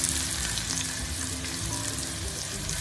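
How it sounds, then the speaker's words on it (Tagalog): Ginger slices frying in a pan, a steady, close crackling sizzle with continuous fine spatter that holds at an even level from start to finish and has no voices over it. "Fry lang po natin ng bahagya ang ating luya o maging golden brown po siya"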